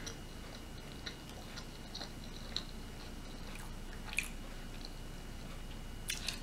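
Fresh firecracker shrimp in spicy sauce being chewed close up, soft steady mouth noise broken by scattered small crisp clicks and squishes, with no talking.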